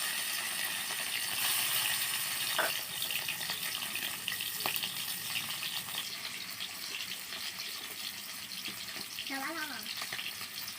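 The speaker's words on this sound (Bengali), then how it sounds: "তেলটা আমার গরম হয়ে গেছে। এবার চিংড়ি মাছগুলো আমি দিয়ে দেবো।" Steady hissing sizzle of prawns frying in hot oil, continuous and close, with a brief faint voice near the end.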